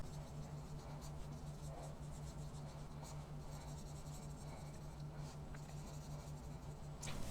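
A pen draws a diagram of lobules on paper, faint and close, with steady scratching strokes over a low constant hum.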